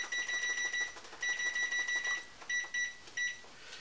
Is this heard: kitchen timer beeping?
yes